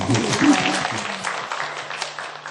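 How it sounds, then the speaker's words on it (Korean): Audience applause at a Korean book-concert talk event, a short burst of clapping that fades over a couple of seconds with a voice mixed in. "박수 한번"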